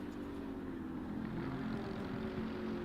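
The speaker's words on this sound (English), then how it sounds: "That sort of turbo noise that it makes" Turbocharged race car engine heard from on board during a sim racing game at Zolder: a loud, steady drone with a constant rumbling whine that continues unbroken throughout, with no voices.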